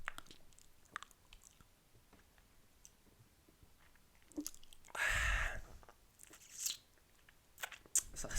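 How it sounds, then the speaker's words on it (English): Someone eats crab loudly up close, with wet smacking chews, crunches and clicks in an uneven rhythm, including one louder burst near the middle. "They always do the biggest gulps, like the biggest chews."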